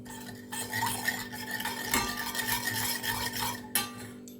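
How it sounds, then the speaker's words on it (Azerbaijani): Garlic cloves are crushed in a kitchen with a rough, gritty grinding and rubbing that goes on steadily, fairly quiet and close, with one sharper knock near the end. "Və bu sarımsaqları əzək buram."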